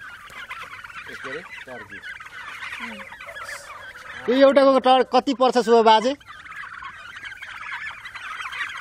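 A turkey lets out a loud burst of rapid, rippling gobbles that lasts about two seconds. A man asks a question just before it, and quieter talk continues once it stops.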